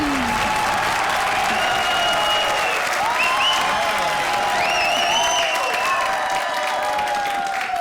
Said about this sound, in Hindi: और जोरदार तालियां हमारी हॉरर जोड़ियों के लिए।